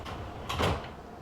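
Sliding doors of a London Underground S7 train on the Metropolitan Line closing in Train Simulator, a single short swoosh and thud against a low steady hum.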